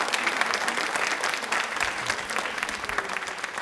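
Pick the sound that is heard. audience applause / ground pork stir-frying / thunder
audience applause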